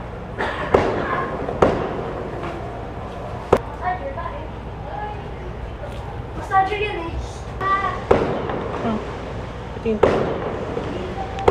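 Sharp firework bangs pop at irregular intervals, some followed by crackling bursts, while people talk nearby.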